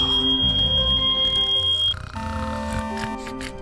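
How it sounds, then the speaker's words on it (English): A steady, piercing emergency alarm tone sounds in Fortnite for a couple of seconds, then gives way to a denser mix of game sounds and music. "That's the emergency alarm!"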